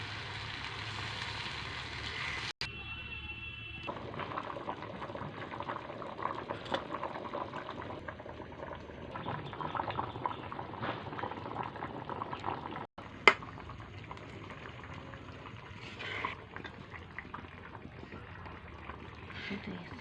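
Homemade local chicken curry broth bubbles in a pot at a low, steady simmer, a soft continuous burble with a few faint clinks and no voices.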